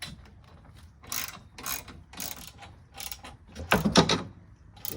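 Ratchet clicking as nuts are tightened on a universal pickup rack being installed on a Ford Maverick truck bed, several short bursts of rapid clicks close by with brief pauses between, no talking.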